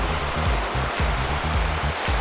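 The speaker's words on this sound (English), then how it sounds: "that water's flowing pretty good" Fast creek water runs beneath a trail bridge along the John Muir Trail, a loud, close, continuous rush with a churning low-end pulse and no voices over it.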